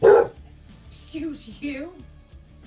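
An excitable puppy acting as a guard dog gives one loud sharp bark close by, followed by a person speaking briefly.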